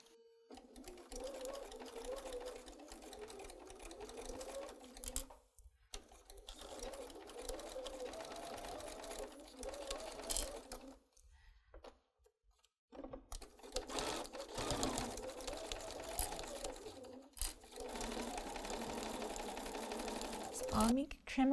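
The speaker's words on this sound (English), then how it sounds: "We're going to take this to the sewing machine and we'll sew a 1/2 inch straight across" An electric sewing machine runs a straight half-inch seam across a towel, its steady mechanical whirring continuing in long bursts with brief pauses, close and fairly loud throughout.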